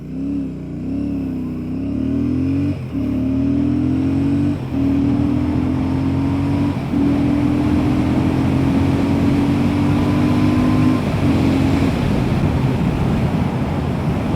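A Royal Enfield Classic 650 twin-cylinder motorcycle accelerates hard on the road, engine note rising through each gear with brief dips at every shift, heard from the rider's position under heavy wind rush.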